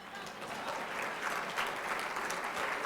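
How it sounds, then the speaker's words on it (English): An audience at a regional business event breaks into sustained applause, a dense, even wash of clapping from many hands that continues throughout at a steady level. "You can clap, it's okay."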